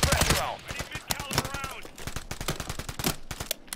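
Rapid automatic gunfire in Call of Duty, a dense string of close, loud shots firing in a steady rhythm throughout, with a voice briefly audible beneath.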